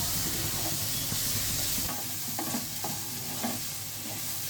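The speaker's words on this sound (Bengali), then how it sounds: "কাজু কিশমিশটা সবজির সঙ্গে 1 মিনিট মতো ভেজে নেব" Cashews and raisins fry with vegetables in a pan for vegetable fried rice, giving a steady close sizzle and hiss with a few soft stirring scrapes and no talk.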